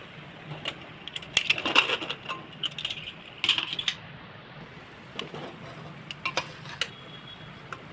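A pressure cooker holding masoor dal and potatoes is opened and checked, with sharp metallic clinks and clatters of the lid and utensils, scattered and close, with no talking.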